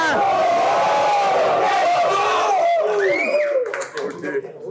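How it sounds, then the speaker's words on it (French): A rap battle audience erupts in loud cheers, whoops and shouts with scattered clapping, a dense roar of many voices that thins out toward the end. "écoute un peu la foule canaille"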